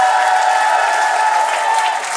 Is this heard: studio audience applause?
yes